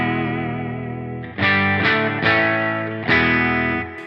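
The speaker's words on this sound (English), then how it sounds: "here's what my guitar sounds like uncompressed" Distorted electric guitar chords played without a compressor, strummed several times, each ringing out with a wide, uneven loudness and no talking.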